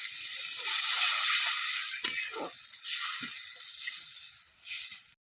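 Fish curry broth for tangra macher tel jhal boils in a pan, a steady close hiss and sizzle with swelling bubbling surges that runs for about five seconds, then stops abruptly.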